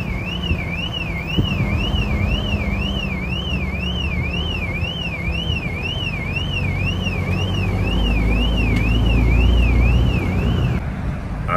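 A car alarm sounds on a stolen Bentley: a loud, close, rapidly warbling siren that cycles without a break for about ten seconds over a low engine and road rumble, then cuts off near the end.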